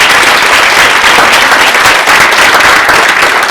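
Loud, close audience applause for student interpreters at a lecture on interpreting ethics, a dense, continuous clatter of many hands clapping with no gaps.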